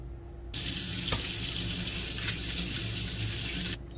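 Water rinses greasy bicycle parts, a steady broadband splashing rush that starts abruptly and runs continuously for about three seconds before cutting off, loud and close with no talking.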